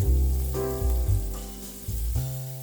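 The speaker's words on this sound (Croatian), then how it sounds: "U istu tavu dodajte malo maslaca pa ubacite na sjeckanu ljutiku i češnjak" Chopped shallot and garlic sizzle steadily in butter in a pan, a continuous close frying crackle with a few soft stirring bumps and no talking.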